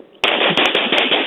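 A voice imitates machine gun fire during a radio show, a loud, close burst of rapid rattling pops that starts abruptly and carries on steadily for about a second.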